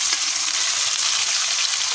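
Half a kilo of minced meat fries in a pan on a gas stove, a loud, dense, continuous sizzle heard up close without any talking.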